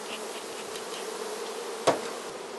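Honeybees buzz steadily around a nucleus hive, a dense, continuous drone close by with one sharp knock partway through.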